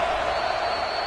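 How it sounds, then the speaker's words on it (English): Stadium crowd roaring steadily in an EA College Football 26 game as a defense tries to get a red-zone stop against Wake Forest, a dense continuous wash of cheering with no breaks. "The crowd getting behind this defense as they try to get a stop in the red zone."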